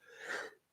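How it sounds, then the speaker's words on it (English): A single short human sneeze, close and fairly soft, a quick breathy burst lasting under a second with no talking. "I think it's the first time I sneezed during the show."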